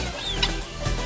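Chickens, including guinea fowl, feeding on bread and rice bran, with short clucks and calls close by over a steady background.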